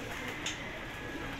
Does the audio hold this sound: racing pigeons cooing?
yes